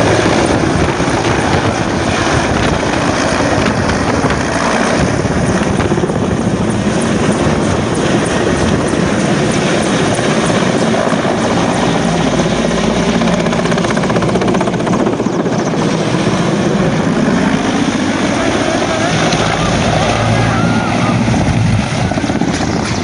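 A helicopter engine and rotor roar loudly and continuously, heavily mixed with wind buffeting the microphone, in footage of a helicopter going down in Veracruz.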